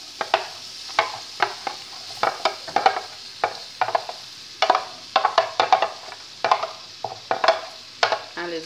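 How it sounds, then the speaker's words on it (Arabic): Very thinly sliced onions frying in hot oil while being stirred for a fish sayadeya casserole, with a low sizzle under repeated sharp clinks and scrapes of a utensil against the pan in an uneven rhythm. "وبنقلب البصل بتاعنا كويس جدا كده هو"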